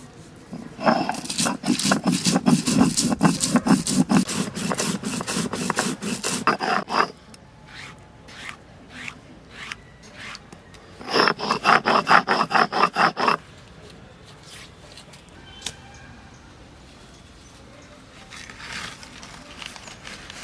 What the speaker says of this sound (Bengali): এবার ধনে বেটে নেব।